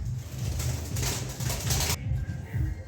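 A young pigeon coos in rhythmic, low repeated phrases close by, a steady series of throaty calls with a faint hiss behind them.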